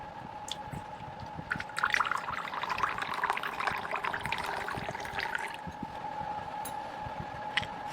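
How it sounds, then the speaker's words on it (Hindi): Water poured into a bowl while preparing thandai in a home kitchen, a splashing, trickling pour that swells for a few seconds and then tapers to light dribbles, close and clear with no voices. "बोल में हम पानी डालेंगे"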